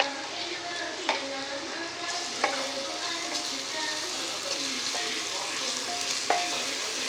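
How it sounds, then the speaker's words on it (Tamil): Ginger garlic paste fries in oil with a steady, dense sizzle, punctuated by several sharp clinks of a spoon stirring against the pan. "நல்லா வதங்கிடுச்சு எண்ணெயிலேயே."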